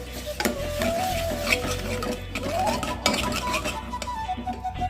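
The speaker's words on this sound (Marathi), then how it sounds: "आता हे आपण यात टाकूया मिक्स करू" Tomato puree, potato, turmeric and garam masala are stirred in a pan for mutkulyanchi husal, with repeated spoon scrapes and metallic clinks over a light sizzle, close by.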